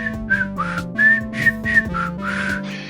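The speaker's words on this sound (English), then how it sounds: "he's just doing a MIDI version of a whistle" A MIDI-style synthesized whistle plays a short, bouncy tune of clear, piping notes over a steady low sustained tone, close and alone with no talking.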